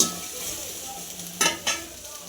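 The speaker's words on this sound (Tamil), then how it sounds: "கடாய் காஞ்சிச்சு, நான் வெண்டைக்காய் போடுறேன். போட்டு நல்லா வதக்கலாம்." Okra stir-fries in a hot kadai with a soft, steady sizzle, broken by two sharp scraping stirs near the end, quiet and close with no talk.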